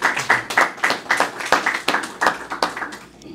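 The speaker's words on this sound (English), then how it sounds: "Give them another round of applause." Nursing students receive a round of applause at a mobile nursing program event: steady, evenly paced clapping that sounds like only a few people, continuing for several seconds before tapering off.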